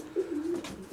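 A racing pigeon loft housing yearling cocks: a single short, soft pigeon coo with a low throaty rolling tone, heard close and alone in about one second.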